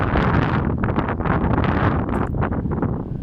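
Steady evening wind buffeting the microphone on a bike ride over the Gotthard Pass, a loud continuous rumble with gusty swells throughout and no voices.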